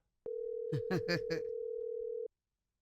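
A telephone tone while a call is placed, one long steady beep that sounds alone and then stops, with a brief voice heard over it.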